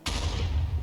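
A fireball explosion in Minecraft bursts with a sudden loud boom, then a short rumbling roar that stays strong for nearly a second.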